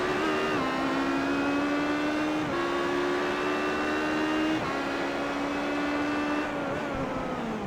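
Prototype race cars at Imola during a sportscar challenge round, a steady loud engine drone with stepped pitch rises through gear changes, heard alone without talk.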